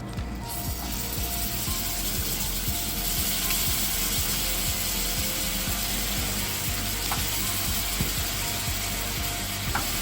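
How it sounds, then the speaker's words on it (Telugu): Marinated mutton pieces fry in melted butter in a pan over high flame for an Afghani mutton gravy, giving a steady, close crackling sizzle with small scraping clicks throughout, no talking. "బటర్ కరిగాక అందులో మిక్స్ చేసిన ముక్కలను ప్యాన్లో వేయాలి."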